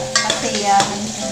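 Garlic and onion frying in a pan, a steady sizzle with stirring scrapes and clinks of a utensil against the pan, close and continuous without talk.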